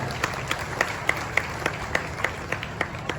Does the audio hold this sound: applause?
yes